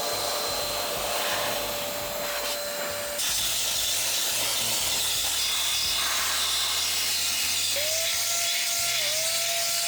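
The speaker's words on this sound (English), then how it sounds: "It's basically an IT duster and it should do wonders for this PC" An electric IT duster blows dust out of a heavily soiled PC, giving a loud, continuous high-pitched rushing blast that runs steadily for the whole ten seconds, with small shifts in pitch as the airflow changes.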